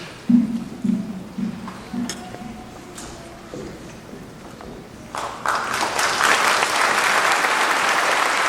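Audience applause at a Weatherford College commencement afternoon program, starting as scattered claps with a few sharp hand strikes and building into a dense, sustained round of clapping from a large crowd.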